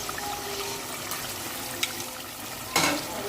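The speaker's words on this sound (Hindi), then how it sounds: "अब हम इसमें चिकन डाल देते हैं।" Chicken pieces tipped into a pot of salted boiling water while making Bombay chicken biryani, a steady bubbling wash with a brief splash near the end.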